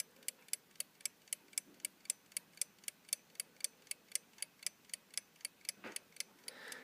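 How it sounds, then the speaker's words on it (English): A plastic West Clocks clock made in the USA ticks in a steady, even rhythm, about three light, small ticks per second, close and alone, with a faint rustle near the end. "Kind of a lighter, tinier tick, tick, tick sound coming off of this one here."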